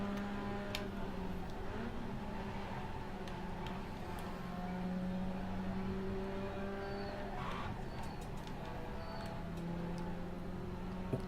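Mazda MX-5 race cars lapping Lime Rock in the iRacing sim, a steady, continuous engine drone with shifting pitch as cars run through corners, a constant close-up motor hum throughout with no talking.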